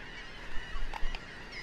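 Geese-like birds honk on a beach at Myrtle Beach, South Carolina, a few faint scattered calls over steady wind and surf noise.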